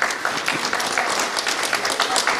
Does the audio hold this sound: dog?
no